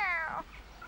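A single short cat meow, clear and close, fading quickly into quiet background noise.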